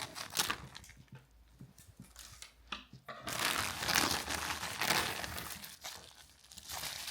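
Plastic bag around a Banpresto Dragon Ball figure being cut open and handled, close crinkling with snips early on, then a louder, sustained rustle of plastic and bubble wrap.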